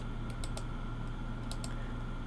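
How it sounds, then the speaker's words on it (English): Computer mouse left clicks while drawing in PowerPoint, several quick light taps in small clusters, close and faint over a steady electrical hum. "Each one of these I'm clicking"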